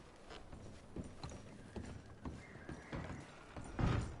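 Horse hooves clip-clopping in Red Dead Redemption 2, soft, unhurried steps at a walking pace with a slightly louder, closer thud near the end, heard alone against quiet ambience.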